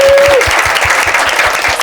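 A studio audience at a talk show applauds loudly in a dense, close burst of clapping while a voice briefly speaks over it.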